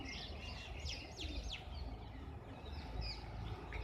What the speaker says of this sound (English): bird is chirping